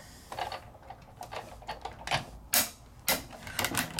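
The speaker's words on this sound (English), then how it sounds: "that's the sound of cutting" A die cutting machine whirs and clicks in short bursts as it cuts layering dies, with faint mechanical rattling and a few sharper snaps, fairly close.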